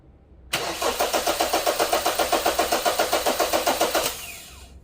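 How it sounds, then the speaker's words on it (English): A car engine cranks during a starting system voltage drop test, a rapid rhythmic starter chug of roughly twenty pulses that runs about three and a half seconds and then stops, close and loud with no talking. "We watch our meter and we crank our engine"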